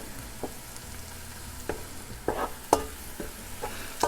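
Garlic being stirred in a soup pot for mushroom soup, a faint background sizzle broken by a few sharp scraping strokes of the spoon against the pot, close and without any talking.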